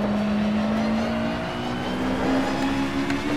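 Race car engine in rFactor 2 droning loudly and close, with pitch sliding downward as it drops through the gears, steady and alone without talk.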